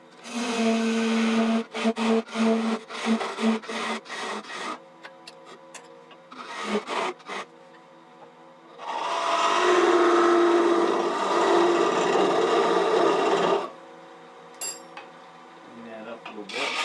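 Woodturning on a lathe while cutting a short tenon on a blank for a hollowed geometric form, with intermittent scraping bursts, then a sustained loud cutting stretch, and quieter rubbing between.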